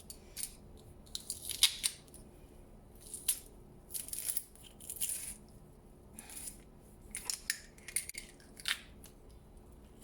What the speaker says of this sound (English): For the garlic, I'm going to use the garlic crusher.